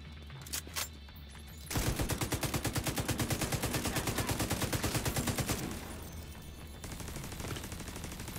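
A grenade thrown in the video game The Division 2 sets off a loud burst, followed by several seconds of dense, rapid rhythmic gunfire, then a quieter stretch of distant combat noise.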